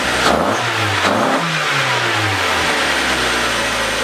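A Mazda Miata engine fitted with a homemade intake revs up hard, with rising and falling pitch sweeps over a steady loud engine roar, close and continuous throughout.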